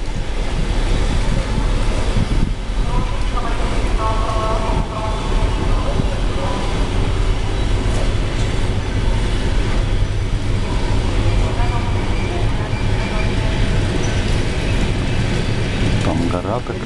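Inside a passenger train carriage standing at Zlatoust station, a loud, steady mechanical rumble and hum fills the space, with faint clanks and background voices throughout.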